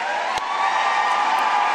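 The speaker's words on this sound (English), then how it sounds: "Please give her a round of applause" An audience at the University of South Africa's 2025 academic year closing ceremony breaks into dense applause with some cheering, a brief, steady wash of clapping from a large hall crowd.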